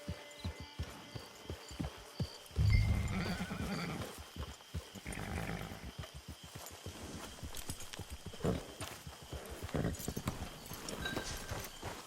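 A horse in the video game Red Dead Redemption 2 clip-clops at a steady walking pace on the camp ground, with a loud snort or whinny near the start and game ambience underneath.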